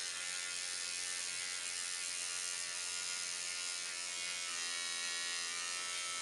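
A Stingray rotary tattoo machine runs steadily at around 9 volts, giving a continuous, even mechanical buzz with a fine rattling texture, heard alone and unbroken from start to finish.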